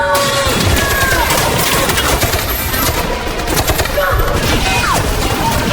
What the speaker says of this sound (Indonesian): Tak tinggal diam, Gap pun menyerang balik dengan menembaknya secara beruntun.